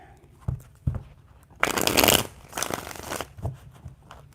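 Tarot cards being shuffled by hand: a couple of soft taps, then a burst of riffling and sliding card noise, followed by quieter shuffling rustles, close and alone without talk.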